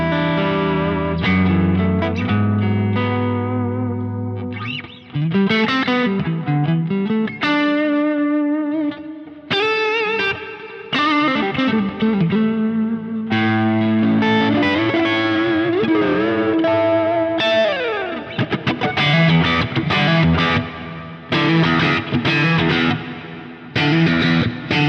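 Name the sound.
guitar tone from Quad Cortex preset Asato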